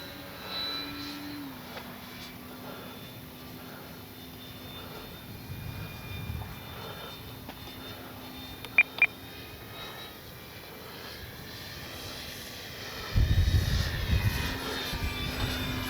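A Dynam F6F Hellcat RC warbird flies overhead on a windy day, its electric motor whining steadily at moderate distance, with a few sharp clicks and a gusty rumble of wind near the end.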